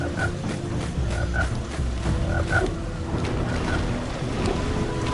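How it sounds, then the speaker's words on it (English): A frog croaks in the video game Jak and Daxter, repeated croaks over a dense bed of game water and ambient noise, continuous and fairly loud with no talk. "I really hate that frog."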